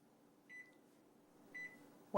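Microwave oven, used to heat a bag of Christmas candy mixture, emits two short beeps about a second apart over a low, steady hum, followed by a louder clunk or door sound at the end.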